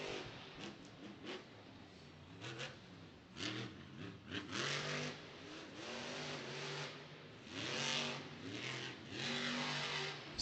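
The Zombie monster truck's engine roars and revs in repeated surges during a stadium freestyle run at Angel Stadium in Anaheim, loud, distant-sounding bursts rising and falling over crowd ambience.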